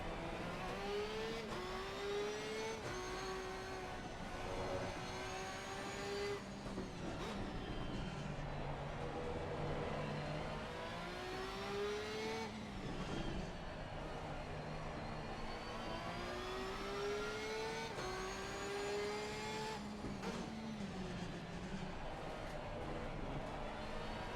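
Race car engines in Assetto Corsa Competizione on a dark, rainy Valencia circuit, several cars revving and shifting with rising and falling whines, steady and fairly loud throughout.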